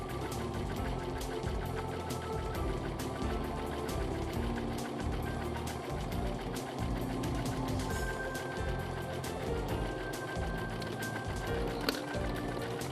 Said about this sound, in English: Serge end to end once more.